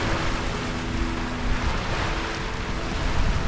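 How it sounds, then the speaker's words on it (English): Steady wind and sea wash while sailing off Kythnos in the Cyclades, Greece, in about 20 knots of wind: a continuous broadband rush of waves and gusting air with wind buffeting the microphone, close and loud throughout, no voices. "the wind suddenly turned and picked up"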